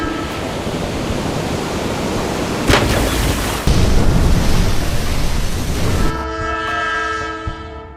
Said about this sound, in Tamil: அப்போ அங்க அதிவேகத்துல வந்த வந்தே பாரத் ட்ரெயின் பண்ண சம்பவத்தை பாருங்க.